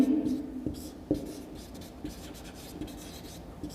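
Chalk or marker writing on a board during a structural mechanics lecture, scratchy strokes and taps in short bursts, close, with a lecturer's voice around it.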